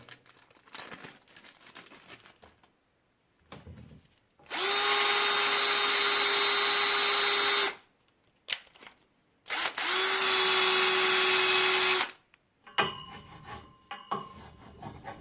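A Parkside polishing pad driven by a drill rubs a surface in two long steady whirring bursts of about three seconds each, separated by a short pause, with quieter handling noises before and after.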